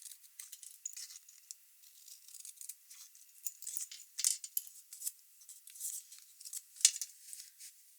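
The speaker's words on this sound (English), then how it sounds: "I'm going to take my snips and just fishtail." Small paper snips cut fishtail notches into the ends of cardstock strips, giving a steady run of light, crisp snipping and rustling close by without talk.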